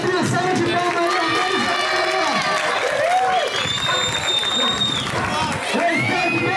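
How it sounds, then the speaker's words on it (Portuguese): Crowd at a soapbox car festival for Children's Day, a lively mix of cheering, whoops and shouting children with scattered clapping, under someone talking over a loudspeaker. "Uma salva de palmas aí"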